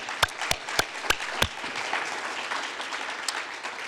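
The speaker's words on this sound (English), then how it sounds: "A quick round of applause for all of the speakers." An audience at a morning research presentation session gives the speakers a short round of applause: a few sharp, sparse claps up front, then a quieter patter of clapping that fades, fairly faint overall.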